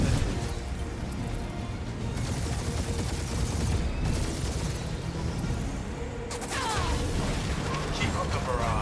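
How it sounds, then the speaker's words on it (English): A gunfire barrage in the Guardians of the Galaxy video game, a dense, continuous loud fusillade with mechanical clatter and booms that never lets up. "Keep up the barrage."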